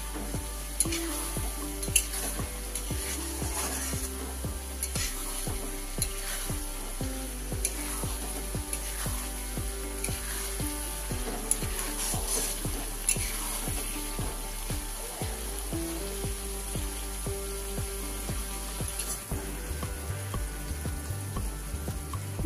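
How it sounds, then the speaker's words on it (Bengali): Spice masala for a red, spicy mutton curry frying in oil and being stirred, a close, steady sizzle broken by repeated rhythmic scraping strokes of the spoon, with a low tonal hum running underneath throughout. "মশলাটা কষানো হয়ে গেছে, মশলা থেকে তেল ছাড়তে শুরু করেছে"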